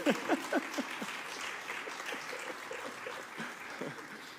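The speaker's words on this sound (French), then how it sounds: "On peut l'applaudir" Congregation applause during a Sunday church service, a few sharp claps at the start swelling into a steady, even round of clapping that continues with light talk beneath.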